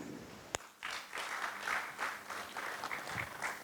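Audience applause at an award and recognition ceremony. After one sharp knock, a dense burst of clapping from many hands swells in and holds steady and fairly loud throughout.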